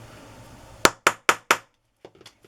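Four sharp hammer strikes ring out on an eyelet hole punch at an even, quick pace, each loud and close with a short metallic decay, followed by a few faint light clinks.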